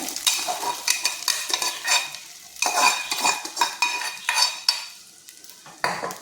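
Tapioca pearls (sabudana) being stirred in a pan with roasted cumin and chili for fasting khichdi: close, rhythmic scraping and stirring strokes over a light sizzle, with no voices.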